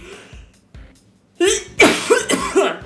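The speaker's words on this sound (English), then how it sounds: "I need to cough again." A few sharp, close coughing bursts in quick succession after some quieter breathy sounds, loud and abrupt with short gaps between them.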